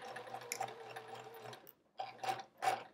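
A home sewing machine stitches a straight line on a quilt's checkerboard border, its rapid mechanical whir running steadily, pausing, then coming back in two short close bursts.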